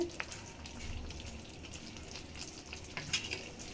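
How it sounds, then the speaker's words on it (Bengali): Boiled mango pickle stirred gently in a pan, a soft steady frying sizzle with faint scraping strokes and a couple of small clinks, close and quiet with no talking. "এখন আমটা সিদ্ধ হয়ে গেছে খুব আলতোভাবে নাড়তে হবে"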